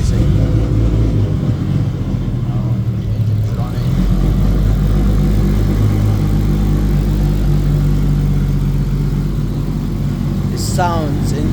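A Nissan Skyline R34 with its engine running, converted from GT-T to GT-R, gives a loud, deep steady idle rumble close by throughout, with a brief higher noise near the end.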